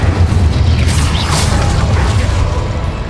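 The Incendio fire spell bursts in Hogwarts Legacy on PC as a loud, deep booming whoosh with a rumbling low end, continuous and dense for about three seconds, with no talking heard.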